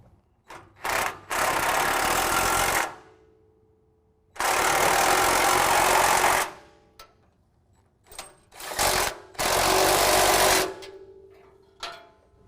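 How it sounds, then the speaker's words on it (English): A 19mm wrench and socket tighten the bolts of an N-Fab M-RDS prerunner front bumper, heard as three long, loud bursts of powered driving, each lasting a couple of seconds, separated by short clicks and quiet gaps. "I'm using a 19mm wrench and socket."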